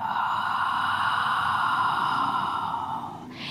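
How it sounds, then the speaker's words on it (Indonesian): Long, steady exhale during a diaphragmatic breathing exercise, a breathy airy rush sustained for about three seconds, close and fairly loud, with no talk over it. "Tarik napas exhale, kempesin perutnya."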